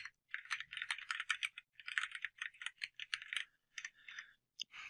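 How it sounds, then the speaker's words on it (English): Fast, light clicking of keys on a CharaChorder Lite chorded keyboard, close up, in quick irregular bursts with short pauses between them. "Let's take a look at kind of how typing feels."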